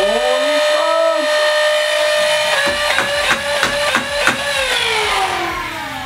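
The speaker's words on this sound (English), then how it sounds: "Yeah, you can go ahead and fire it. It revs up." A motorized Nerf blaster spins up with a rising electric whine, then fires a quick rhythmic burst of sharp shots over the sustained motor hum before spinning down, heard close and fairly loud.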